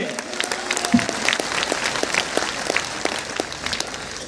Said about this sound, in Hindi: अपने तालियां बजा के दिखा दो एक बार